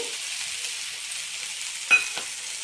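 Green peas frying with cauliflower in a pan, a steady soft sizzle with one sharper clink and scrape of the spoon near the end, close and with no talking.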